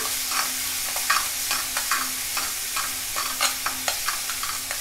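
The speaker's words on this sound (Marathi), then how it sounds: "आता चांगला भाजलेलाच हा, तरी पण जरासा तेलात परतवून घेऊया" Roasted black peas (kala vatana) sizzle as they are sautéed in oil in a pan with dry onion and coconut masala, with steady frying hiss and a scatter of stirring scrapes, close and with no talk.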